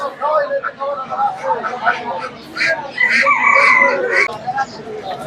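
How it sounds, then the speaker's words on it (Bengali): Native chickens cluck and a rooster crows amid the busy Fatullah livestock market, with people talking throughout and overlapping the birds. "দেখতে পাচ্ছেন সব দেশি মোরগ মুরগি"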